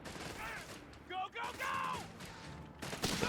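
Bursts of heavy machine gun fire in a Company of Heroes 3 1v1 match, heard faintly amid battle noise and overlapping speech, with rapid rattling volleys recurring through the clip.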